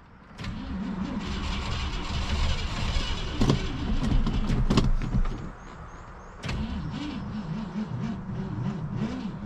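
An abandoned 1967 Ford Galaxie 500 engine cranks repeatedly on a failing battery with a rhythmic, labored churning that never catches, steady and close for several seconds.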